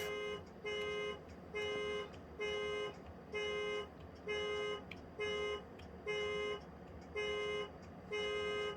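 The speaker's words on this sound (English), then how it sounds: "the car was locked and the alarm went off." A car alarm in BeamNG.drive, set off on a locked car in a crash, repeatedly sounds a steady electronic tone in regular on-off bursts, about ten in a row, loud and close, with no talking.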